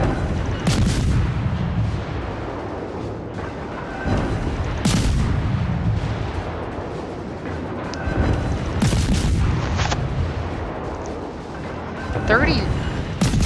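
Heavy naval guns from World of Warships fire at an enemy ship in repeated deep booming salvos, loud and spaced a few seconds apart, with someone talking over the barrage.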